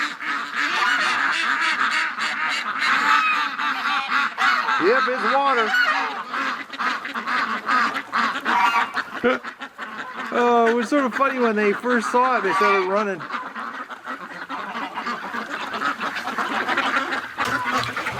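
Ducks and geese quack and honk in a run of calls during a winter outing, the birds rushing toward the person filming, with someone talking over them throughout.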